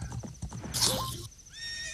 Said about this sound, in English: Hate when the horse rears back like that.